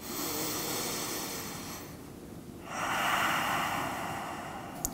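Deep yoga breathing comes as a slow, airy inhale and exhale with a soft hiss, near and steady, set against a constant background hum.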